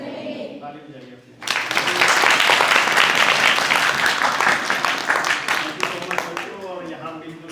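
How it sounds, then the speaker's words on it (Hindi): Village library audience bursts into loud applause after a speaker stops talking, the clapping rising suddenly and sustaining dense and close, then thinning toward the end as speech resumes. "ताली बजाइए अपने।"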